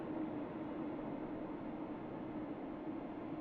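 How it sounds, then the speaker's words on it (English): A very long train rolls steadily through a base in the automation game Oddsparks, giving a continuous, even rumble with a low hum throughout, moderately quiet and with no talking. "Yeah, that's a very long train."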